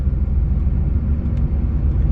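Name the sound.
car engine idling after Hypertech chip install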